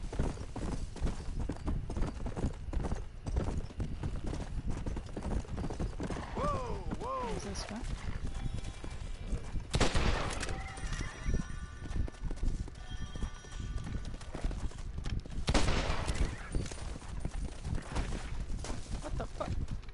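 Horse hooves clip-clopping in the Red Dead Redemption video game, with a couple of whinnies and other game sounds mixed in, steady moderate trotting in the background across the whole stretch.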